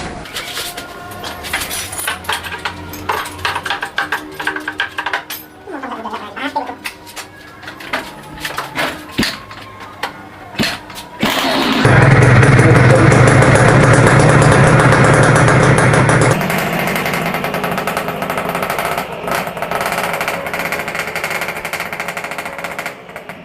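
A rarely used motorcycle engine runs nearby, starting with rough sputtering bursts and popping, then settling into a loud, steady roar that eases slightly toward the end, with no speech.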